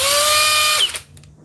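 A Makita XGT cordless drill whines loudly at steady high speed in drill mode, speed 2, then spins down abruptly to a stop with a brief clatter.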